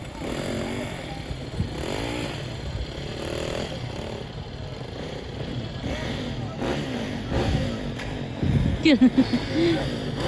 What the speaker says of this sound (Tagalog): ipagawas na ito ng motor